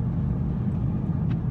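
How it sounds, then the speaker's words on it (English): Deep, steady rumble from a 2015-17 Mustang GT V8 fitted with a Stainless Works catback exhaust, a brief low burble at a constant level with no talking. "How does the exhaust note change"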